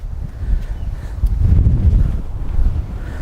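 Strong wind buffeting a microphone outdoors, a heavy low rumble that swells and gusts throughout, loud and close with no speech.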